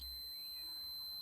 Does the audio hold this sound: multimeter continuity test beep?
yes